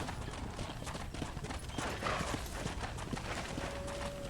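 Horse hooves in the Red Dead Redemption video game, a quick, steady clip-clop of trotting steps, soft and continuous over a busy background.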